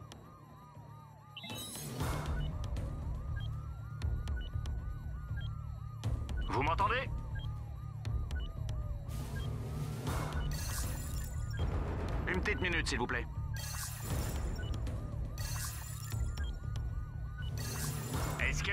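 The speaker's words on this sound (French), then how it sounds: "je ne me souviens plus du code pour arrêter cette putain d'alarme" An alarm wails in the South Park: L'Annale du Destin video game, a rising and falling siren tone that repeats steadily, with French-speaking voices over it.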